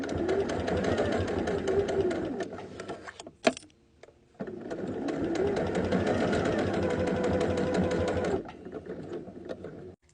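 A sewing machine stitches a Y seam in a quilt with a fast steady whirring run, stops briefly with a click, then runs again for several seconds before slowing.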